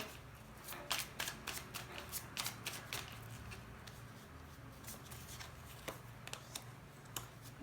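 Tarot cards shuffled by hand during a reading, soft riffling bursts and quick flicks repeating in an uneven rhythm, close and quiet with no talk.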